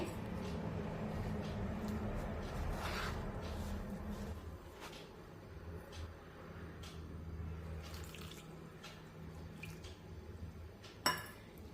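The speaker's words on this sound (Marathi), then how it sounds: "पण एकदम पाणी टाकायचं नाही थोडं थोडंसं पाणी यामध्ये टाकूया" Water pours and splashes in a kitchen as it is added little by little to millet flour batter with curd, a continuous running trickle with small clinks and faint background speech.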